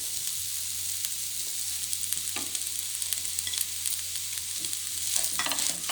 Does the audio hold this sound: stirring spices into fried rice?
yes